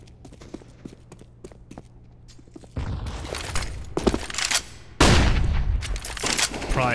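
AK rifle bursts ring out in a competitive 5on5 video game match, several sharp volleys of rapid shots with the loudest bursts in the second half, mixed with footsteps and other game sounds.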